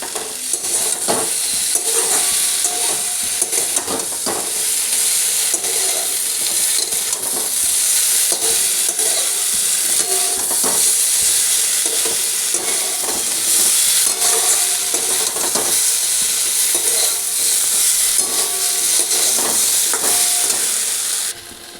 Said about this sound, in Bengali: এবার মশলাটা ভালো করে দিয়ে ভাজবো